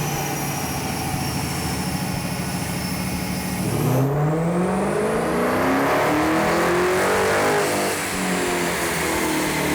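A Dodge Hellcat, a late-model high-horsepower car, idles loudly and then revs hard partway through, its engine note climbing and rising through several sweeping pulls, close and powerful with no talking.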